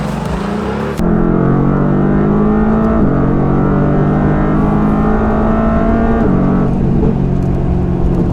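A Mercedes-AMG GT-R's engine revs hard and loud as the car accelerates up through the gears, its steady roar stepping in pitch at each shift, heard alone with no talk.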